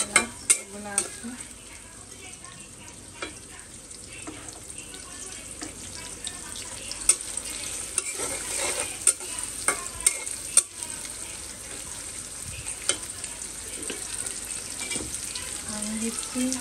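Onion, chili, cinnamon and cardamom fry in a pan with a steady close sizzle, punctuated by sharp clinks and scrapes of stirring against the pan, a voice occasionally speaking.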